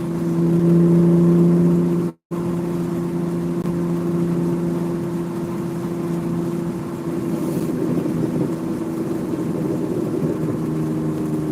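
A BMW fitted with a straight-pipe exhaust is driving, and from inside the car its exhaust gives a loud, steady droning rumble with one brief cut near the start.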